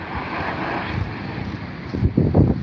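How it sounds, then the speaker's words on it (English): KLM Embraer airliner arriving at London Heathrow, a steady broadband jet roar held close throughout with a louder surge near the end as it passes. "The first Embraer arrival of the day, my friends."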